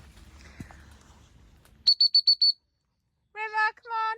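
A gundog recall whistle on a pheasant and partridge shoot sounds five short, sharp pips in quick succession, loud and close, followed by two longer warbling trills after a pause; faint outdoor rumble before it.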